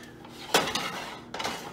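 Two pounds of ground beef being chopped apart in a frying pan over medium heat, with two distinct clattering scrapes of a utensil against the pan, close and alone.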